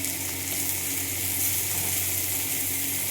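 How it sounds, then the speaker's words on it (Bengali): Spiny gourd (kakrol) slices frying in a pan, a steady loud hiss and sizzle of hot oil that holds evenly throughout with no talk. "ওই জন্যে আমার জন্যে কাঁকরোল ভাজা করছি"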